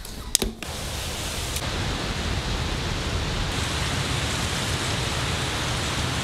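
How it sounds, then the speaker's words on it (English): Heavy rain pours steadily during a summer thunderstorm in London, a dense, even hiss that stays close and loud throughout, with a couple of brief knocks near the start. "Like, heavy as raining and thunderstorms."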